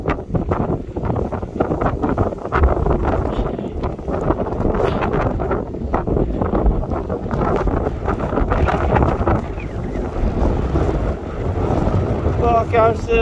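Wind blows hard across Parkhouse Hill, a hilltop in the Peak District, buffeting the microphone in loud, gusty roaring bursts that persist for the whole stretch, with no talk.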